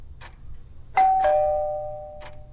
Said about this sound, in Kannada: First time door bell ring ಆಗಿತ್ತು.